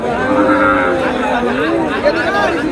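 A cow lows loudly and steadily over a busy background of crowd chatter and other voices at a cattle market.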